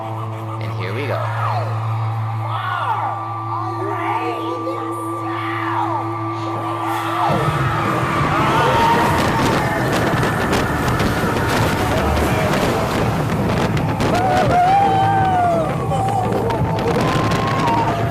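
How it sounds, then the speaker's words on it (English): Rock 'n' Roller Coaster launch, with a loud roaring surge kicking in partway through and riders screaming and whooping over the rushing ride noise; music and voices are audible before the launch. "That initial launch is pretty intense."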